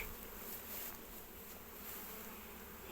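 Many honeybees buzz in a dense, steady drone at an opened hive during cold weather in rapeseed season, faint and continuous throughout.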